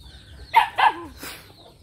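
Chickens in a farm coop give a few short clucks and squawks, close and fairly clear over a low background hum.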